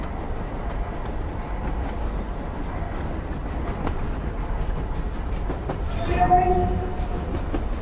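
Train rolling along in the video game Voidtrain, a steady low rumble of wheels and carriage noise with a rising squeal near the end.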